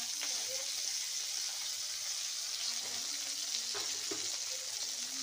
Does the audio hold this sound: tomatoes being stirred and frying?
yes